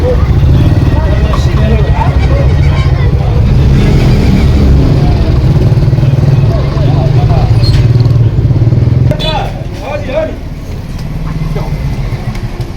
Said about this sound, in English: We have another motorbike here with 2 passengers on, trying to squeeze past the bike with the big trailer on the back.